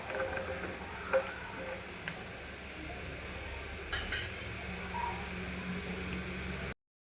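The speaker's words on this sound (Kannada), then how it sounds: "ಇದಿನ್ನೂ ಫ್ರೈ ಆಗಬೇಕಿನ್ನು, ಗರಿ ಗರಿ ನಮಗೆ ಸೌಂಡ್ ಬರಬೇಕು" Masala peanuts (kadle beeja) fry in oil until crisp, giving a soft, even sizzle with a few light clinks from stirring, close but fairly quiet, with no talking.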